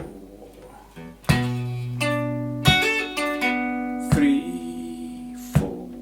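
A plucked guitar riff of ringing notes linked by smooth hammered and pulled transitions, with a few sharper picked attacks, played alone and close.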